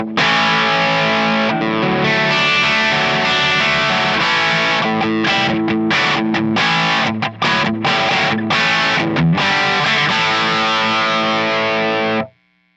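Electric guitar chords ring out loud and full, strummed in a choppy rhythm with a mostly clean tone and slight grit, ending abruptly.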